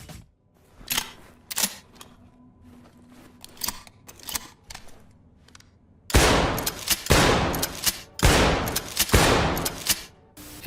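Gunfire from the tactical shooter game Ready or Not: sparse single shots at first over a low hum, then from the midpoint a loud run of close, sharp reports fired in rapid bursts.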